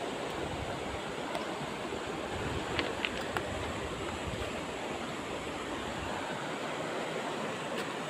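Continuous rushing water, a broad steady wash like a flowing river, in Davao de Oro, fairly even in loudness with faint wind noise and no voices.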